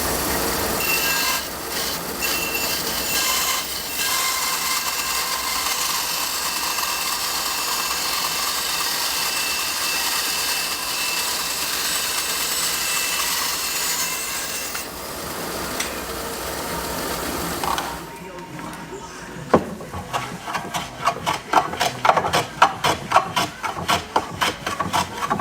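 Long, steady rasping strokes of a sharp hand plane shaving wood for a Sam Maloof-style office chair, continuous and close, giving way to a choppier series of short scraping passes near the end.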